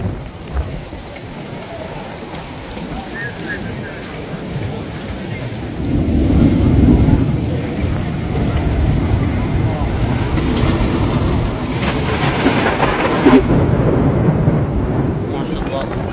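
A heavy rainstorm in Makkah pours steadily with strong wind, the broadband roar thickening midway with a low rumble like distant thunder, while indistinct voices sit faintly beneath the downpour.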